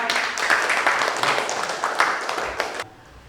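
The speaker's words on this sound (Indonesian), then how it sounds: "kita kasih aplaus dulu untuk kelompok 3" A classroom of students applauds group 3, a dense, lively patter of many hands clapping that runs steadily for nearly three seconds and then stops abruptly.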